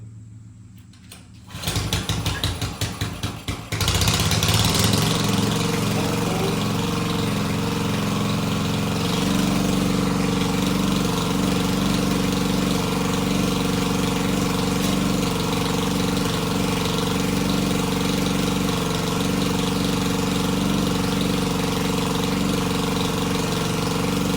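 A Predator small gas engine runs steadily on choke with the throttle set high, starting with a few sputtering pulls before settling into a loud, continuous, buzzing roar.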